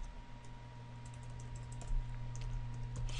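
Quiet typing of code on a computer keyboard, with light scattered keystrokes over a steady electrical hum and no speech.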